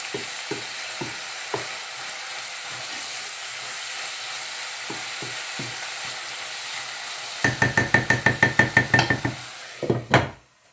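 Chicken escalope fries in a pan under a constant sizzle, with scattered utensil knocks early, then a rapid run of rhythmic stirring scrapes and clacks before a final few taps.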